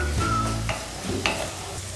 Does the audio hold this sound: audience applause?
no